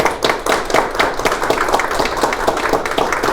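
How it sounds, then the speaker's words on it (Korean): Applause from officials at an agreement signing ceremony, a fairly close round of clapping with distinct individual claps in a quick, uneven rhythm, sustained throughout. "관계자분들께서 박수로 한번 더 크게 축하 부탁드립니다"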